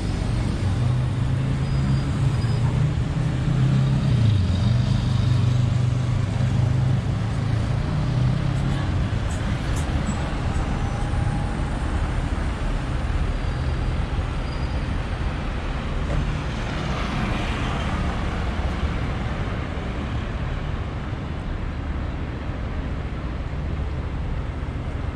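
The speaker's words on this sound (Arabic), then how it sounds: "اللي قدامكم دي اصدقائي محطه الباص في روساريو بلد ليونيل ميسي الارجنتين" Traffic at the bus station in Rosario, Argentina, heard as a steady broadband rumble of engines and road noise throughout, with a low idling hum early on and someone talking over it.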